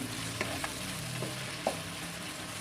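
Green chillies and chopped tomato cook in a pan, giving a soft, continuous sizzle with a few light stirring knocks, close up and without any talking.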